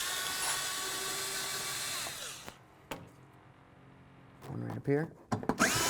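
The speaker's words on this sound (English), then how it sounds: "we're going to remove these bolts right here using a T27" Power tool driving out T27 Torx bolts on a Ford F350 headlight, a steady whirring drill tone for about two seconds, then short clicks and taps with someone speaking briefly near the end.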